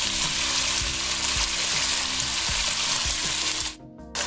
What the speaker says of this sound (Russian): Очень часто размешивая, жарим мясо минут 5, пока оно не схватится.